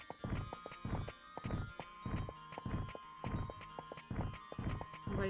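Steady clip-clop of horse hooves from the Digimon World video game, a loud, close, regular rhythm of roughly two beats per second, heard alone against a faint electronic tone.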